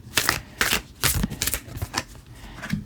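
Oracle cards are shuffled by hand in quick bursts, a series of crisp riffling flutters repeating about five times, close and fairly loud with no talking.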